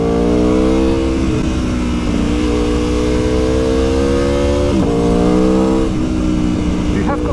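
Super naked motorcycle engine heard while riding, a close, loud throaty drone that rises and falls with throttle changes, including a brief dip and re-rev near the end.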